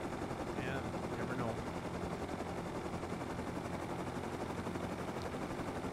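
A helicopter in the survival game Rust gives a steady, dense rotor roar that fills the whole stretch at a constant level, with no talk over it.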